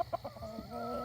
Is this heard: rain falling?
no